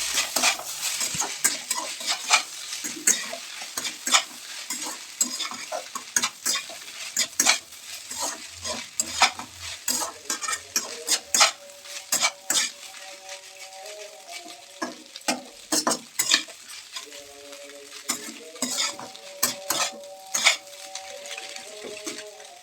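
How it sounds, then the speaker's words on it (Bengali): Pasta mixture stirred in a pan with a spoon, repeated close scraping and clattering strokes over a soft sizzle, with a quiet tonal background sound in the middle section. "সব কিছু মিশ্রণটা এভাবে নেড়ে চেড়ে নেবো"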